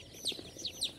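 Chickens at a poultry stall selling Tiger laying hens and castrated meat birds give brief, high, chirpy calls repeating about three times over a steady hum of market noise, fairly near and moderately loud.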